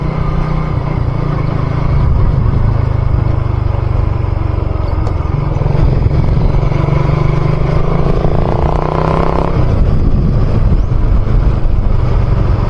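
A motorcycle engine runs at a steady idle after its cam chain tensioner was reset, a loud, close, continuous rumble with a slight shift in tone partway through and no talking.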